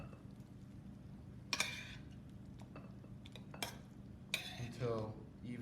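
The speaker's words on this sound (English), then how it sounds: "spoon in your masala" Quiet, close clinks and scrapes of a spoon against a pan as tikka masala is spooned onto rice, with a few sharper metallic knocks over a faint low hum.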